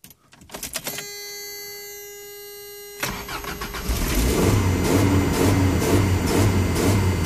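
Engine of a 1994 Toyota pickup with a 22RE four-cylinder and a throttle fault cranking and catching, then settling into a loud, uneven, pulsing idle that throbs rhythmically, heard up close with no speech.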